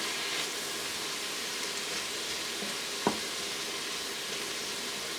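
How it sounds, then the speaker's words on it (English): Garlic sizzling in an Instant Pot for chicken and sausage jambalaya, a steady hissing fry with one brief clink partway through, no talking. "Okay, I'm going to add my garlic now."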